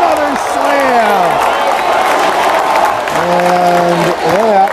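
A gym crowd of Tigers students and fans at a high school basketball game cheers and claps after a slam dunk, a loud sustained roar with a commentator's voice running over it.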